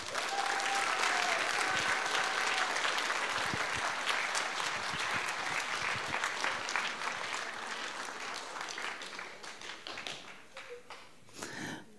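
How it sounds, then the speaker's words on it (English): A school assembly crowd applauds during a Women's History Month event, a broad, steady burst of many hands clapping that holds strong and then thins out toward the end, with scattered claps trailing off. "A huge round of applause to you and to all the women who have helped shape our past,"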